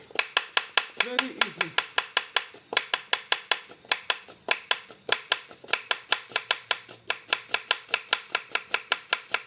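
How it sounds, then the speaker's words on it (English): A knife chops through unripe plantain on a board in a fast, steady run of sharp, close knocks, with a brief spoken remark near the start. "this is how I cut my unripe plantain sheet. Unripe plantain."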